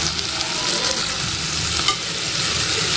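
Brinjal curry being stirred in a pan after salt goes in, a steady close scrape and soft sizzle running unbroken with no voices.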